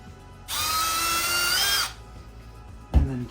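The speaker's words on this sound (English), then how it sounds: "Drill my pilot holes here." A power drill bores pilot holes for a door latch in one steady, high whirring burst of just over a second, close and loud, followed by a short thump as the drill is set down.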